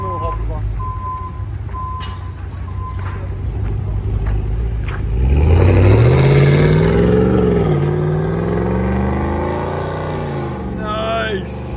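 A Ram Power Wagon 6.4L Hemi V8 with muffler and resonator deleted, its deep exhaust idling then revving up into a loud rising roar and settling back, heard close with people talking over it.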